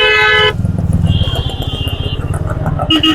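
Heavy road traffic on the Andhra-to-Chennai route at Periyapalayam, heard from a motorcycle. A loud, sustained car horn opens, then a steady engine rumble follows, with another horn toot near the end.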